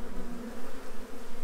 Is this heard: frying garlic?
no